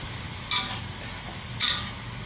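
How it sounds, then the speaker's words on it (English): Minced pork searing in a pan for Hakka abacus seeds: a low, even frying hiss with two sharp clinks of a utensil against the pan, close by and without speech. "Spread the minced pork and sear it from all sides."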